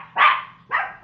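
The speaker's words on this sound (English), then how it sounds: "you have to excuse the dogs because my husband's coming home, so of course they're going to bark." Two loud, close dog barks a half-second apart, the second shorter, with a small third yip trailing at the end.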